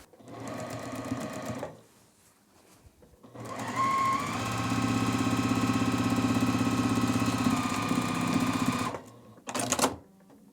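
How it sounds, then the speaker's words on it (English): A sewing machine stitches down the side seams of a tulip tote bag, running in one long steady whirring burst after a shorter run, then a brief final spurt, all close up with no voices. "so that I can get to these side seams and just sew right down them"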